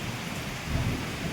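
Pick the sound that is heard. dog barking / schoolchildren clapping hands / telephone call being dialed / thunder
thunder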